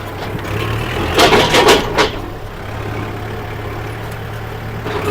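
A Kubota MU4902 tractor fitted with a front dozer blade and a six-disc plough, its diesel engine running steadily while reversing in gear, with a louder burst of revving and rattling midway over a constant low rumble.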